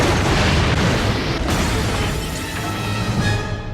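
Film-set explosion blast on the set of Charlie's Angels, a loud, sustained broadband roar that fills the whole moment and slowly tails off without fading out.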